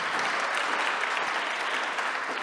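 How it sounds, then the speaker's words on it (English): Dense, even applause rises from the audience at a poetry reading for a Pulitzer Prize-winning poet, a loud steady wash of many hands clapping with no talk. "Round of applause for Natasha."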